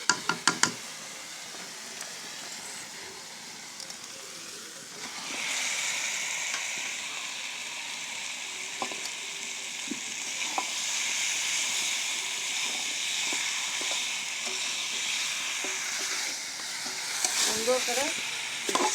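Chicken goes into oily, fried spice paste with a few knocks and then a loud, steady sizzle, stirred with occasional scrapes and clinks throughout.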